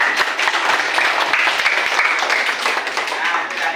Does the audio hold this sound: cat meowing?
no